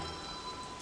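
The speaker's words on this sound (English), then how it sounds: "I really hope this rain doesn't last a while." Rain falls in the video game Don't Starve, a steady soft hiss of pattering drops without a break, evenly loud throughout.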